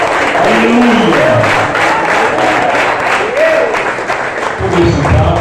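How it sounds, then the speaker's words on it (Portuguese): A congregation in a Portuguese-speaking church applauds, with steady dense clapping filling the space and voices calling out over it. "Vamos aplaudir o Senhor."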